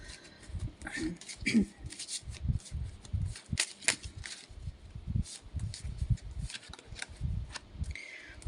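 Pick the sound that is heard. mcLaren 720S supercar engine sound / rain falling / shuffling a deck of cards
shuffling a deck of cards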